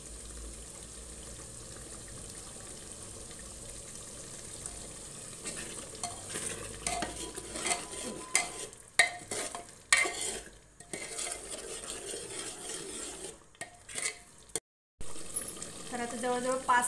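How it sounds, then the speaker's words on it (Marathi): Spiced tripe (vajdi) cooked with masala is stirred and fried in a pan, with steady sizzling and scraping strokes that grow busier and more uneven midway, briefly cutting out near the end. "असं मिक्स करून करून घ्यायचंय, छान एक जीव होऊ द्यायचे मसाले त्याच्यात"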